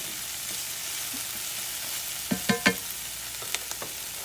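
Onions and beef frying in a skillet for a one-pot beef and potato meal: a steady close sizzle, broken by a few sharp scrapes and clacks of a utensil stirring the pan near the end.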